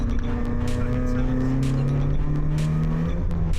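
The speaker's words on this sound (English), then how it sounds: "Driving something like this is visceral, it's raw, it's like everything's clunky and noisy" Engine of a stock Toyota Celica GT while driving, a steady low drone with shifting pitch that runs continuously under conversation inside the car.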